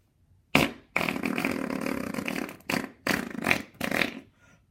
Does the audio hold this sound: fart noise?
yes